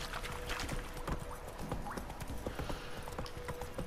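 A horse galloping in The Witcher 3: Wild Hunt, with rapid, continuous hoofbeats at moderate loudness over a busy game soundscape.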